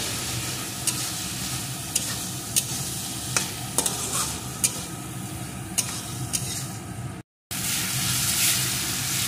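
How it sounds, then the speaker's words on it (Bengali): Vegetables including carrot, seasoned with salt and turmeric, fry in a pan: a steady, close sizzle runs throughout, broken by periodic scraping stir strokes and one brief dropout near the end. "পরিমাণ মতো লবণ, একটু হলুদের গুঁড়ো। এখন সমস্ত কিছুকে ভালো করে ভেজে নেব।"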